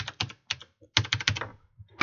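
Quick bursts of typing on a computer keyboard, close and crisp, with clustered keystrokes separated by short pauses.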